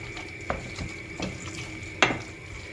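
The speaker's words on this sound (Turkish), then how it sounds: "Önce biraz ben kendim karıştıracağım" Chicken keşkek being stirred by hand in a pot, with a few distinct scraping and knocking strokes of a spoon against the pot under a soft bubbling background, close by and without talk.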